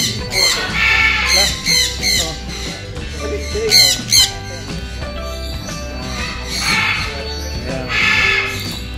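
Loud, harsh parrot squawks repeat in bursts over a noisy flock chatter, birds calling close by without pause.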